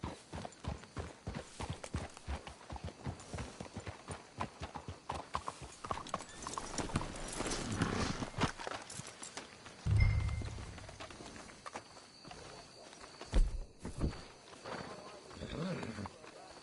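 Horse hooves clip-clop at a steady walking pace in the video game Red Dead Redemption 2, with a few louder thuds and some talking over the top.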